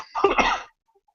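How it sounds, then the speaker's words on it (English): A single nasty cough, close and fairly loud, a short harsh burst of under a second followed by silence. "had a nasty cough."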